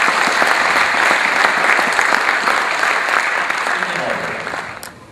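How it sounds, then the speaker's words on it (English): An audience at a Toastmasters speech contest gives a long, steady round of applause for the chief judge and contest officials, dense clapping filling the room before tapering off near the end, with a faint voice coming in late. "Please give them all a big round of applause."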